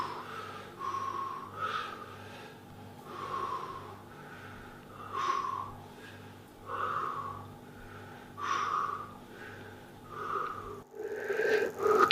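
A person lying on a table during a massage therapy session breathes heavily in a steady rhythm, drawing in and pushing out long, effortful, slightly wheezy breaths over a constant low background hum.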